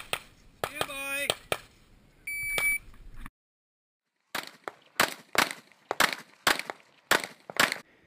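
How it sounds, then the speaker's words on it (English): A single high electronic shot-timer beep sounds at a USPSA practical shooting match, followed after a pause by a rapid string of sharp gunshots; a voice is heard briefly beforehand. "Shortly after, you will hear the beep and it's time to get it on."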